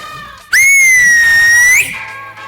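Piercing human whistle, very loud and close, rising sharply at the start, holding a steady high pitch for over a second, then sliding up and stopping, with faint room noise before and after.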